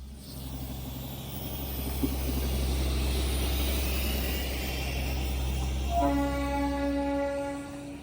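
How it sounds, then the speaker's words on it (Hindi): A steam toy train in Sikkim rumbles steadily nearby with a low engine drone, then a loud sustained horn blast sounds in the last two seconds. "ये भाप वाला इंजन है, टॉय ट्रेन चल रही है हमारे पास में।"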